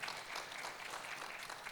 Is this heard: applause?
yes